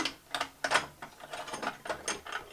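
A Neewer 660 LED video light is twisted onto its mount with a run of quiet ratcheting clicks in uneven bursts, close and alone without talk.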